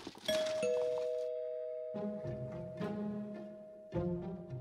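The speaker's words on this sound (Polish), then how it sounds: "Nagle w mieszkaniu rozległ się jednak głośny dzwonek." A loud ding-dong doorbell rings inside an apartment with a long, ringing tone that slowly fades. More bright chime strikes follow at intervals, up close and with no voices.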